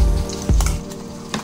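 Ginger and garlic frying in hot oil for chicken soup, a loud close sizzle with a sharp crackling burst midway and a brief spatter near the end, no talk.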